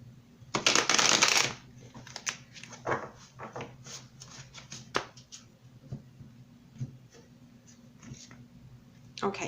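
Energy cards for a spiritual reading are shuffled by hand in a loud riffling burst near the start, followed by scattered softer card slaps and taps at close range, with no talking.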